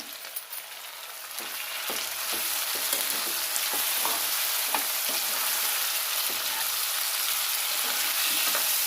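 Tomatoes fry in hot oil for a curry of brinjal and potato, a continuous near sizzle with scattered spoon scrapes and small clicks as the pan is stirred, with no talk.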